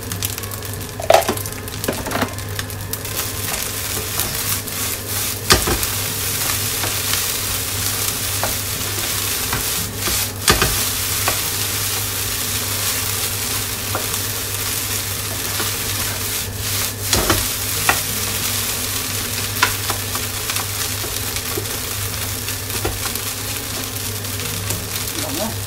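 Japanese chahan fried rice is stir-fried in a pan, with a loud, continuous sizzle and repeated scraping and tossing strokes of a spatula, close up, with a low hum underneath.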